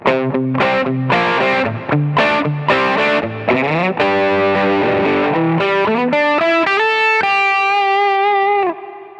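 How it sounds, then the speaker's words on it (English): Electric guitar driven through an OCD distortion pedal with a larger reverb gives a classic rock tone: loud, close chord riffs that climb into sustained single notes, then a final held note, with no talking. "Like a classic rock kind of guitar sound."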